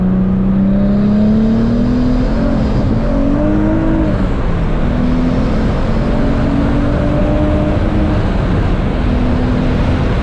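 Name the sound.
twin turbo Nissan 350z engine accelerating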